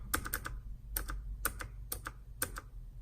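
Keys clack on an Anidees portable mechanical keyboard with blue clicky switches, sharp paired clicks landing in small irregular bursts, close and crisp over a quiet background.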